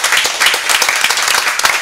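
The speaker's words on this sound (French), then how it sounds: "on l'applaudit encore très très très fort" Audience at a French-language talk show gives loud, close applause for a guest, a brisk burst of many hands clapping with no talk.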